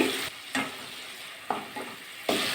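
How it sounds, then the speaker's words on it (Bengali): Spices and tomatoes fry in a pan for spicy potato and okra chorchori, with a steady sizzle broken by several distinct scraping strokes as a spatula mashes the tomatoes. "একটু মশলাটা একটু কষিয়ে নেব টমেটোগুলো খুন্তিতে একটু ম্যাশ করে দিচ্ছি"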